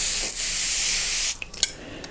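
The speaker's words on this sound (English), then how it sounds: "The other thing that I think you cannot do without is a water spray." A handheld water spray bottle from a makeup kit gives one long hissing mist burst lasting over a second, close and loud, followed by a couple of short faint clicks and handling noises.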